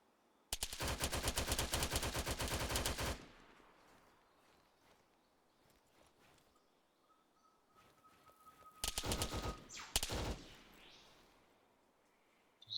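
Sustained bursts of PK machine gun fire in ARMA III, a long loud stream of rapid shots at the start and a second shorter burst near the end, with quieter gaps of distant shooting between.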